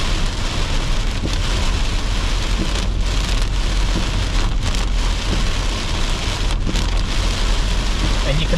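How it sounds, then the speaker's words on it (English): Heavy storm rain hammers a car during a drive through South East Queensland, a dense, constant roar of drops on the roof and windscreen that stays loud and steady throughout. "The rain is that heavy."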